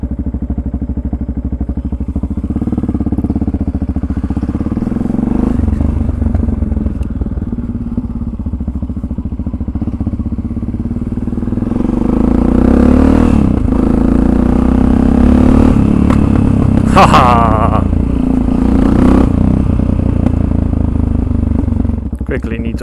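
A Yamaha motorcycle engine runs steadily up close, a low continuous rumble that swells louder about halfway through, with faint mechanical clatter on top.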